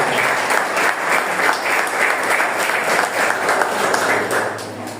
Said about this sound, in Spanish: Dale palmas.